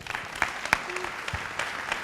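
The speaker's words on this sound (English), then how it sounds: "One more time, a round of applause for our friends from International Samaritan." Brief applause from a Rotary club audience at a meeting, a short scatter of claps at moderate volume that stays fairly light.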